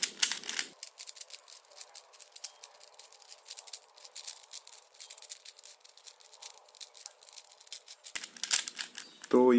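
A 4x4 Rubik's cube is shuffled by hand, giving a steady run of quick plastic clicks and rattling twists at close range, with short bursts of speech at the start and end.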